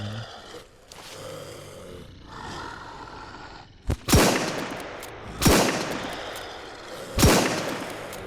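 A machine gun in the survival video game SurrounDead fires three loud, sharp reports, spaced about one and a half seconds apart, over a low background rumble in the second half.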